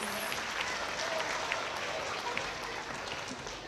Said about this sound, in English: A big round of applause for our kindergarten friends.